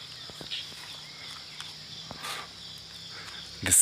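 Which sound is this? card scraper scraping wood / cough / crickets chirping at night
crickets chirping at night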